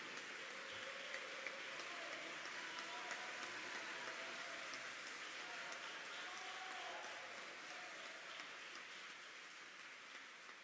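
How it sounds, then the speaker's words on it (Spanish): A crowd at a talk claps continuously in a thick, rain-like wash of applause at a moderate, even volume. It fades slightly toward the end. "Aquí hay una verdadera guerra de aplausos."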